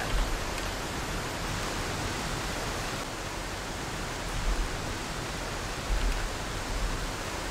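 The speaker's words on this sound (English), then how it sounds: "Oh, that's a really loud waterfall." Loud waterfall in the video game Ghost Recon: Desert Siege, a steady broadband roar of rushing water filling the scene without pause, with slight swells near the end.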